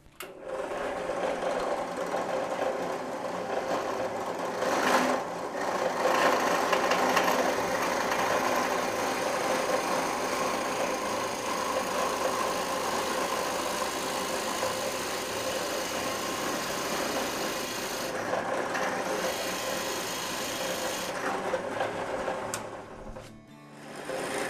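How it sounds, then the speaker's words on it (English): A steady mechanical whir of a drill boring into a wooden tobacco pipe bowl, running continuously, with brief pauses near the start and end. "And so we'll get to drilling."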